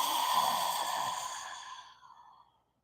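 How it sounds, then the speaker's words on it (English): A single long, controlled exhale during a meditation session: a soft, breathy sigh that starts steady and fades gradually into silence, close and alone. "Really fill up your whole body, your whole torso, and exhale."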